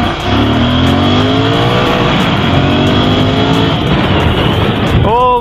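A Royal Enfield Interceptor 650 engine rumbles loud and close while riding, a steady throaty drone with rising and falling pitch, ending in a quick rev; a rider's voice is faintly present.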